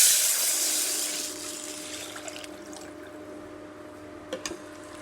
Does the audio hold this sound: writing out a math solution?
no